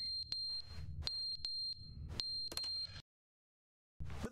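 Smoke alarm in The Stanley Parable chirping in sharp, repeated high beeps over a low rumble, several in irregular succession, then a second of silence before the sound resumes.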